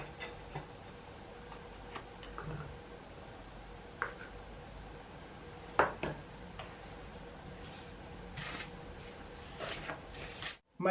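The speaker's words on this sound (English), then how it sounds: "Now stir in the apricots." Apricots being stirred into a rubbed-in scone mixture in a bowl, soft quiet scrapes and light taps spaced through the clip, close and faint with no talking.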